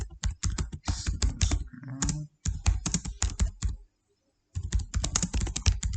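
Text is typed on a computer keyboard while editing Excel VBA code, giving close, rapid clusters of key clicks with brief pauses and one silent gap before the typing resumes.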